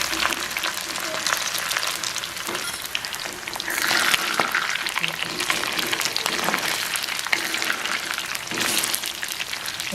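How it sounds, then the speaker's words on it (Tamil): Squid pieces fry in hot oil, a loud, continuous crackling sizzle that stays close and steady throughout, with brief surges and faint stirring clinks. "வாங்கோ எண்ணெய் காய்ஞ்சிட்டு இப்போ பொரிப்போம்"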